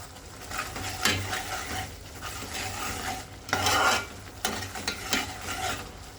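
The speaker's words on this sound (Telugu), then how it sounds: "ఆనియన్, టమాటా పేస్ట్ని వేసేసుకున్నాము. ఈ పేస్ట్ ఉడుకుతుంది కదా" Onion and tomato paste with turmeric and chilli powder bubbling and sizzling in a pan for a stuffed brinjal curry, with repeated scraping stirs of a spoon every second or so, close and moderately loud, no voices.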